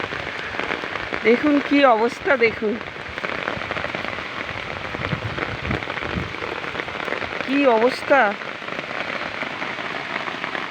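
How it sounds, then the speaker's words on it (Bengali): Heavy rain pours steadily during a rainy day, a dense, loud, continuous hiss throughout, with a person speaking twice over it. "আবার আজকে বৃষ্টি এসে গেল।"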